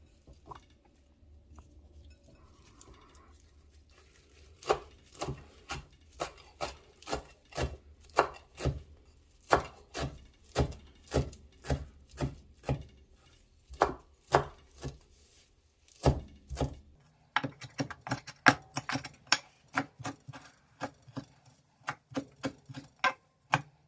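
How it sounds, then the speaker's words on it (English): A knife roughly chops fresh cilantro on a cutting board for pico de gallo, with quiet handling at first and then a steady run of crisp, close chops that quicken into a denser burst near the end. "I'll just go ahead and roughly chop up my cilantro."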